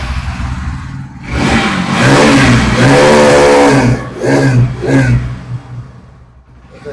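A used motorcycle with USD forks and LED indicators starts with one click at a bike showroom near Kolkata. The engine revs up loudly and close for a few seconds, then drops back to idle with a couple of shorter blips.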